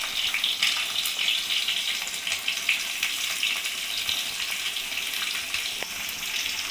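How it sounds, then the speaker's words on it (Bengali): Potatoes, capsicum and onion fry in a wok, giving a steady close sizzle with soft crackling that carries on without a break, and no one speaks over it. "আলু, ক্যাপসিকাম আর পেঁয়াজটা আমি ভালো করে ভেজে নেব"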